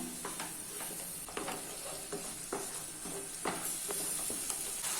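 Onion, ginger garlic paste and tomato puree frying for a rohu fish curry masala, a constant bright sizzle with repeated scraping strokes of a spoon stirring through the pan.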